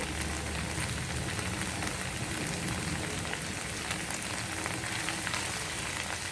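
Spring onions frying with okra in a pan, a dense, even crackle of sizzling oil like light rain, moderately soft and close, continuing steadily without speech.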